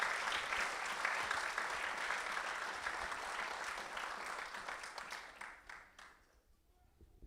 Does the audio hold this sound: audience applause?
yes